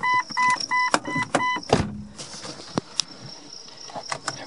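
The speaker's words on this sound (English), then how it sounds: "We're going to listen to the fuel pump." Electric fuel pump of a 1999-2001 Jeep Cherokee XJ priming with a steady, thin whine, heard after a run of repeated dashboard chime beeps and a single clunk.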